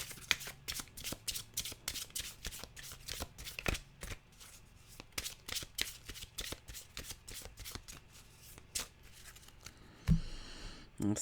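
A deck of animal oracle cards is shuffled by hand in a long run of rapid, crisp riffling flicks, close and fairly quiet, ending with a brief clattering handling of the cards.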